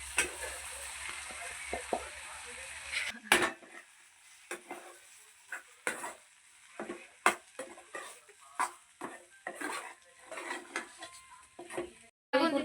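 Poha chivda is added to a hot mixture in a pan, bringing a soft sizzle and a run of irregular scraping and clinking stirs of a utensil against the metal, close and moderately loud.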